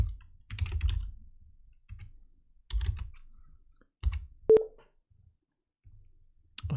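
A few separate bursts of typing on a computer keyboard, close and fairly quiet, with short pauses between clusters of keystrokes and one sharper single tap near the middle.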